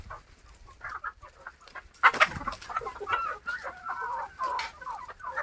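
Free-range country chickens foraging on soil for scattered sorghum grains, clucking steadily and close by, with one louder squawk partway through.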